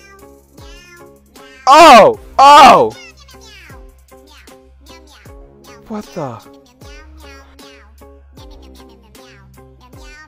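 A cat meows loudly twice in quick succession, then gives a shorter, quieter mew a few seconds later, amid playful meme audio with a voice and surprised exclamations from a person reacting.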